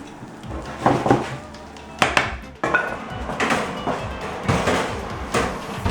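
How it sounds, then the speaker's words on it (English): A pie going into a conventional oven: clattering metal trays and dish knocks, a sharp clank of the oven rack or door, then further scattered clinks and bumps at close range with no talking. "And in the oven it goes. I'm putting the pie in the top here."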